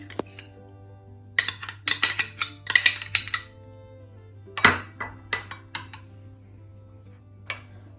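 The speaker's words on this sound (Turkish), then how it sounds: "Hamurumuz mayalanırken üzeri için ayrı bir kaseye tereyağını boşaltıyorum." Butter is emptied into a separate bowl while making garlic bread, producing a cluster of close, bright clinks and taps of a utensil against the bowl, then a few sparse knocks after a pause, with no talk.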